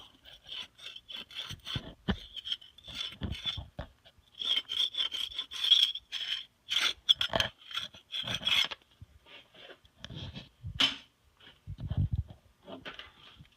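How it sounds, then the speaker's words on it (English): Putty knife or scraper rasping heavy debris off the flat face of an exhaust manifold from a 2004-2009 Ford F150, heard as repeated close scraping strokes in uneven bursts with short pauses between them. "We can do this by using a putty knife or scraper and getting some of the heavy debris off."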